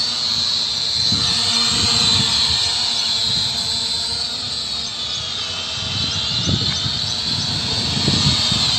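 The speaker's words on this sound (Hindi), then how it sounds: "कैलिब्रेट करने से आपका जो ड्रोन है काफ़ी स्मूथ फ्लाई करता है" A small E88 camera drone in flight gives off a constant high-pitched propeller whine with a fluctuating low buzz beneath, holding steady and near for several seconds.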